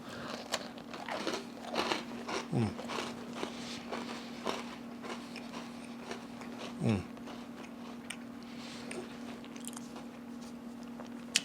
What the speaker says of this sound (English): It's crunchy on the outside, just a little tender in the middle, and that's how I like it.